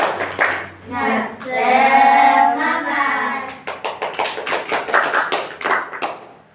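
Children in a classroom counseling session perform a group spirit clap, a rhythmic burst of many hands clapping in unison, loud and close, mixed with chanting voices before settling into a steady patterned clapping beat.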